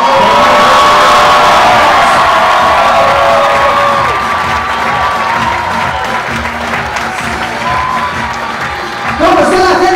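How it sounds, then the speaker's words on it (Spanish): Loud, sustained applause from a live comedy show audience in Matamoros, Tamaulipas, with cheers and whoops mixed in, filling the whole stretch and swelling again near the end. "el aplauso que se escucha"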